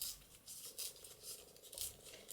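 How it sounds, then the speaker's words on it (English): Collage paper, actually a printed digital sheet, torn by hand along its edge: a few faint, soft ripping bursts spaced through a quiet background, with no talking. "just tear the edge of that."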